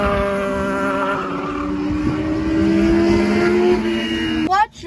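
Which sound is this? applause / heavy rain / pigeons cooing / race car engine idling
race car engine idling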